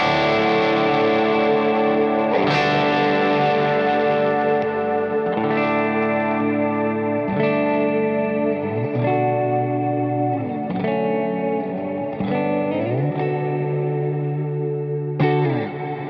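Electric guitar notes and chords ring out with a long, lush reverb tail, each strum blooming and fading slowly into a washy, spacious decay.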